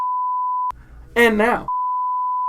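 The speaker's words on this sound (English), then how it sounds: "I love adding in the censor beeps, like right now." Steady high-pitched censor beep tones, one before and one after a short spoken phrase, with a brief beep cutting into the speech.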